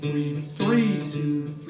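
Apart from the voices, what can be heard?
No everyday noises stand out.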